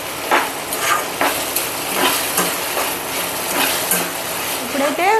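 Semiya kesari, a sweet of vermicelli, being stirred in a pan, with steady scraping and soft sizzling strokes repeating close up throughout.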